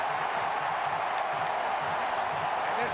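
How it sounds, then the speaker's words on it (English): A packed stadium crowd at an Oregon-USC college football game roars steadily, a dense wash of cheering and noise with no break. "And this crowd is right back in it."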